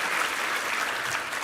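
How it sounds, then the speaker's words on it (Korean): Church congregation at a Sunday Thanksgiving service applauding the choir and its conductor: a dense, even wash of clapping from many hands, loud and unbroken throughout. "우리 김성수 지휘자와 우리 3부 성가대 한번 힘찬 격려의 박수 부탁합니다"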